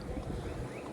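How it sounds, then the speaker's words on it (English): A steady, low mechanical hum and whoosh of an air conditioner running nearby, continuous with no breaks and no voices. "that's your neighbor's air conditioner."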